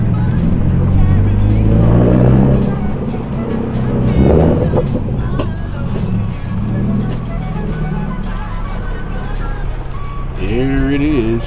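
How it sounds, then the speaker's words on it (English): A Subaru WRX rumbles through its exhaust while driving, the engine note rising and falling as revs change, with a brief whine near the end; someone talks over it. "These people around here are probably so mad hearing my exhaust."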